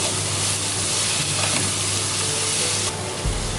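Vegetables and pineapple stir-frying over medium-high flame for fruit fried rice, a loud steady sizzle with scraping stirs, close and continuous with no talking.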